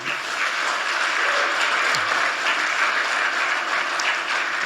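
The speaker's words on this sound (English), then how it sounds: "Let's give a big applause for our young people." An audience at a social business youth summit breaks into steady, sustained applause that fills the hall with dense clapping and no speech over it.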